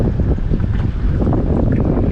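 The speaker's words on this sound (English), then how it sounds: "right now this is pretty bad. The wind is." Strong wind roars and buffets steadily against the microphone on a fishing boat near a bridge, a loud, continuous low rumble with no talking.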